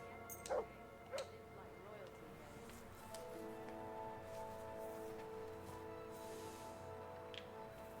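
Dog in the medieval role-playing game Kingdom Come: Deliverance 2 gives a couple of short yips or barks near the start, then ambient game tones and music continue behind speech.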